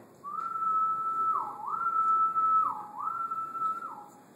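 A man whistles an imitation of a male periodical cicada's quart two courtship call, made of repeated steady tones, each ending in a dipping downward slur, about three phrases in a row, clear and alone.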